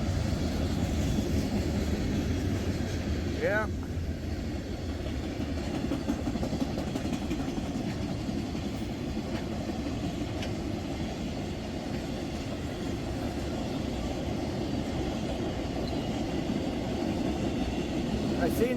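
A Norfolk Southern freight train with grain cars and flatcars of John Deere tractors rolls steadily past up close, a continuous loud low rumble and rattle of wagons throughout, with a brief word spoken over it.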